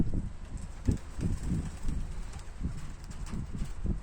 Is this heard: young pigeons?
yes